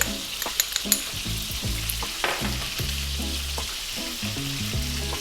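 Chopped garlic and oyster sauce frying in a pan for tuna steak, a steady close sizzle with a few sharp pops and clinks of stirring.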